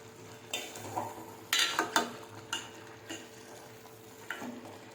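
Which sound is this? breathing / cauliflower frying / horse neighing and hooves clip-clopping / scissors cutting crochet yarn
cauliflower frying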